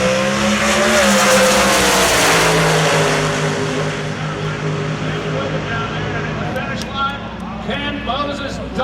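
Top Fuel dragsters at the 2019 NHRA New England Nationals thunder down the strip in a loud, droning engine roar that fades as they pull away, with an announcer's voice over the noise.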